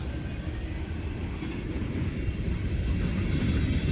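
A freight train led by EMD SD40-2 diesel locomotives passes with a steady, heavy low rumble and rolling wheel noise, a continuous dense roar heard fairly close with no talk.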